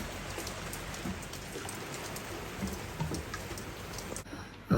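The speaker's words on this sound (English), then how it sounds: "Still raining." Steady rain patters on a sailboat lying at anchor on a grey evening, a dense even hiss of drops with occasional louder taps and no voices.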